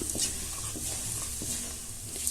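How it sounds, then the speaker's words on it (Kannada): Mango rice seasoning frying in oil over a low flame, a steady close sizzle with light stirring scrapes from a pan, no voices. "ಈ ಥರ ಈಗ ಕ್ರಿಸ್ಪಿಯಾಗಿ ಅದು ಫ್ರೈ ಆಗಬೇಕು ಅಲ್ಲಿವರೆಗೂ ಇದನ್ನು ನಾವು ಲೋ ಫ್ಲೇಮಲ್ಲೇ ಫ್ರೈ ಮಾಡ್ಕೋಬೇಕು"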